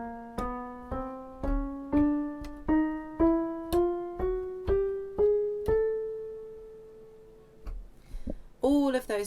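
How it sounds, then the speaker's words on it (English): A keyboard plays a chromatic twelve-note scale, rising in semitone steps across white and black keys. Twelve evenly spaced, clearly struck notes ring out, the last one held and decaying, followed by a brief burst of other sound. "So the whole 12 note scale actually sounds like this."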